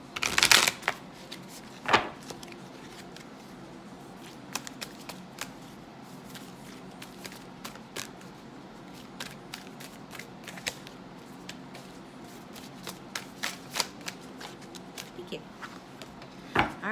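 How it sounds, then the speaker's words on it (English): Deck of tarot cards being shuffled by hand during a psychic reading: a loud riffle at the start, then repeated soft, close card slides and taps in an uneven rhythm. "feel like you need a good shuffle."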